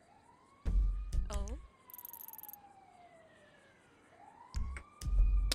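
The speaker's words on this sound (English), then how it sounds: "I hear an ambulance" An ambulance siren in a GTA V roleplay game wails in long rising and falling sweeps, moderately close, with rumbling engine or wind noise and a brief spoken exclamation.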